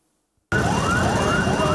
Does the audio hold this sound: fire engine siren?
yes